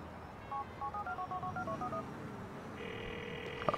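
A mobile phone in Grand Theft Auto IV dials a number as a quick series of short beeping tones, followed by a steady ringing tone, faint over low background noise.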